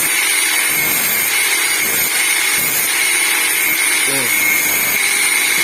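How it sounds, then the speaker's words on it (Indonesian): An angle grinder smooths a sharp edge on a roller housing, giving a loud, steady whine that runs throughout with small shifts in pitch, and someone talks over it. "Seperti ini guys, saya akan gerinda guys."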